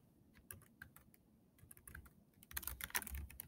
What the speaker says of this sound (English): you would type